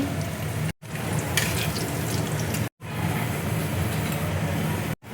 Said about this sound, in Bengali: এবার শুকনো লঙ্কা আমি ফোড়ন দিয়ে দিচ্ছি, গোটা জিরে দিয়ে দিচ্ছি, তেজপাতা দিয়ে দিচ্ছি, গোটা গরম মশলা দিয়ে দিচ্ছি।